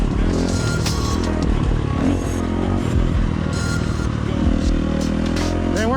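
A motorcycle fitted with a Tokyo Mods Vortex ECU revs hard toward high RPM, a loud, continuous buzzing engine note with sharp throttle blips, close up and with no voice over it.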